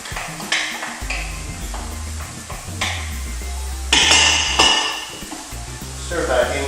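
Chicken, mushrooms and onion sizzle in a frying pan while a utensil stirs and scrapes, with intermittent clinks against the pan over a steady frying hiss.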